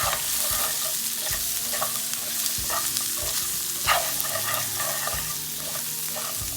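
Mutton and Chettinad masala frying in a pan for mutton chukka varuval, with repeated stirring scrapes over a constant sizzle, close and fairly loud, no speech.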